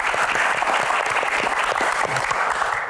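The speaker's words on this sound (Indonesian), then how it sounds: "Tepuk tangan dulu buat Sherly." Steady crowd applause at an interview event, a dense wash of clapping at moderate level that holds evenly for about three seconds.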